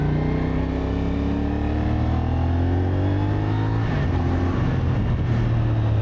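A CFMOTO SR450 motorcycle's engine drones steadily at close range, pitch holding level and then dipping briefly before climbing again, loud and continuous with no talk over it.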